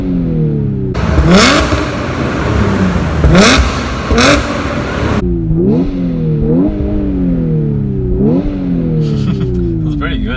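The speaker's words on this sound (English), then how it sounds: "Hear those X-pipes do their job." Audi S5 with APR Stage 2 supercharger, resonators swapped for an X-pipe and rear mufflers retained, revving hard in a loud close burst of several sharp throttle blips, then settling into a rising and falling idle with quick repeated revs.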